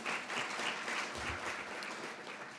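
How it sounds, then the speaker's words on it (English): Audience applause for a guest at a nurse practitioner program event, steady clapping from a room of people that holds evenly for the whole stretch at moderate level. "Yeah, so you can clap for him."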